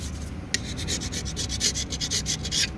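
A carbide-edge scraper scrapes old gasket material off a pump in quick rhythmic strokes, a close, raspy series of about a dozen scratchy pulls.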